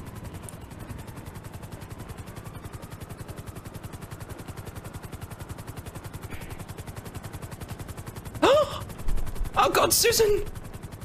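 A constant rhythmic video game helicopter rotor thump runs throughout, joined near the end by sharp bursts of gunfire and a panicked voice shouting.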